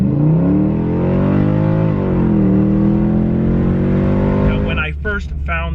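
A cheap, trouble-prone V8 Mercedes-AMG with a brake-sensor warning drives on the road, its engine droning steadily and rising and falling with speed, loud and close inside the cabin; a voice briefly speaks near the end.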